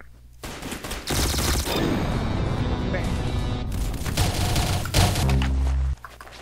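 Loud rapid automatic gunfire bursts fill most of the moment in the Apex video game, with heavy thuds and a voice speaking underneath.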